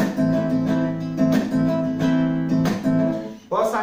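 An acoustic guitar strums a rumba rhythm mixing heavy 6/8 and 4/4 feels, with repeated chord strokes broken by percussive muted slaps in a steady, close, moderately loud pattern.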